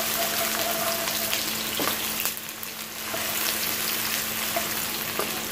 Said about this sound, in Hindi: मीडियम फ्लेम पे हम प्याज को ब्राउन होने तक फ्राई करेंगे